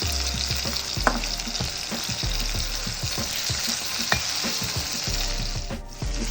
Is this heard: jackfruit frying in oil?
yes